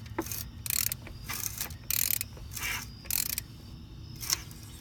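A rotary engine that has sat unstarted for years is turned over by hand with a 19mm socket, giving a run of close, rhythmic ratcheting clicks and bursts of airy hiss as air escapes, with a steady low hum underneath.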